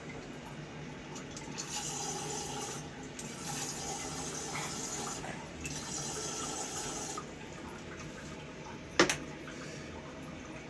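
Water running through a newly installed bidet spray in a bathroom, a faint steady hiss with soft splashing, followed by one brief sharp knock near the end.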